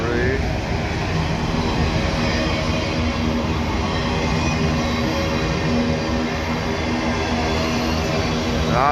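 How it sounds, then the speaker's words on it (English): A CSX freight train's cars roll past at close range in a loud, continuous rumble and clatter of wheels on rails, with a person talking over the noise. "I missed that CSX hourglass car back there."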